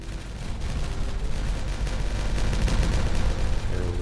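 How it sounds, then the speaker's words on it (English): Explosives detonate in the Timberborn beaver colony game, a dense rumbling barrage of blasts that stays loud and continuous throughout, with a slight surge near the end. "so I can now detonate this"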